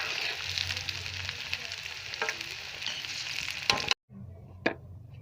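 Okra and chicken masala fry in a pan with a steady close sizzle and light stirring, then a sharp cut to quieter frying with one brief clink and no talking.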